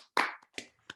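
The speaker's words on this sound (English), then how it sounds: "I think we could have a round of applause for the filmmakers and for Frances Pratt" Audience applause for the filmmakers at a film discussion: a few sparse, separate hand claps, the first louder and the rest fainter, with quiet gaps between them.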